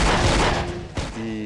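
A .44 Magnum Desert Eagle fires blanks on a Stargate Atlantis film set, a loud, close blast with a booming tail, followed by a second sharp report about a second later.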